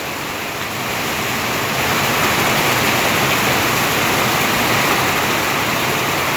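Floodwater rushes in a steady, loud broadband roar, continuous and close, with no voices over it.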